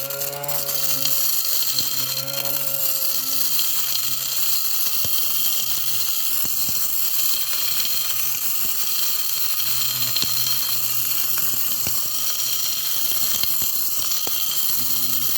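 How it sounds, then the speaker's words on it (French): A small vacuum cleaner whines steadily for the whole stretch, a high mechanical drone with scattered faint clicks and bumps and a few low tonal hums early on. "je vais allumer le petit aspirateur"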